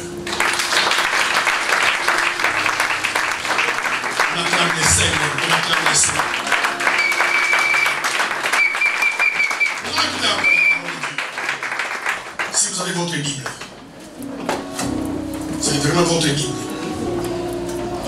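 Church congregation applauding after a call to acclaim the Lord, loud sustained clapping with crowd noise and voices throughout, fading briefly near the end before swelling again.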